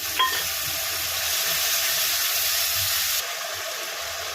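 Spices with a little sugar, Kashmiri chili powder, turmeric and a splash of water hiss and sizzle in a hot pan, a steady close bubbling sizzle with a brief clink at the start.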